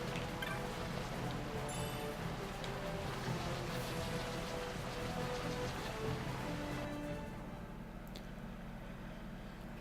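Steady broadband rain hiss from the Final Fantasy XII: The Zodiac Age game world, continuous and fairly soft throughout, thinning slightly near the end, with no talking.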